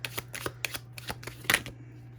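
Tarot cards are shuffled by hand in quick, crisp riffling bursts, about eight or nine sharp flutters in a loose rhythm. The sound is close and clear against a faint low hum, with no talking.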